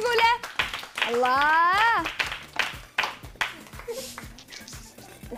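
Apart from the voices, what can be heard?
children clapping for a boy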